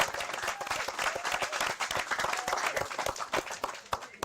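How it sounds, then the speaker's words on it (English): A crowd applauds youth football players at an East End youth football league gathering, with dense, steady clapping that stays close and loud throughout. "Let's give them a round of applause."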